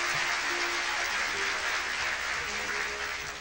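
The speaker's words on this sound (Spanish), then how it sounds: "Sus aplausos me hacen sentir pura vida." An audience at a 1994 concert in Costa Rica applauds in a dense, even wash of clapping that stays steady throughout, heard from within the hall and moderately soft.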